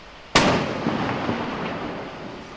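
A single sharp, loud blast of gunfire from troops in combat at an urban front where mosques serve as enemy hiding places, followed by a long rumbling, echoing decay, with no talking.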